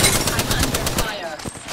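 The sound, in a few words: gunfire in the video game Apex Legends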